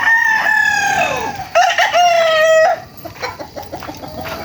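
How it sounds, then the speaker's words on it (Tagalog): Chickens and roosters on a farm: one long crow rings out close and loud, a second crow follows, then short clucks and calls trail off at lower volume. "Ito po yung mga manok nila."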